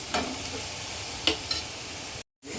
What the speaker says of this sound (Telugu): ఇప్పుడు ముక్కలు నేను నెమ్మదిగా కలుపుతున్నాను